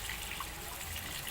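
Tap water running steadily for wudu ablution, a continuous even hiss of flowing water at close range with no voices.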